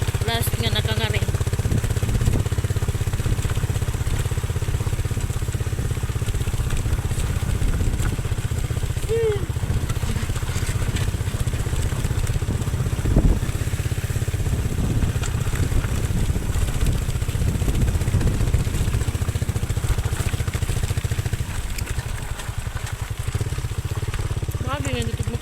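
A motorcycle engine drones steadily and loudly throughout a ride along a rural road to a farm, with people talking over the constant rumble.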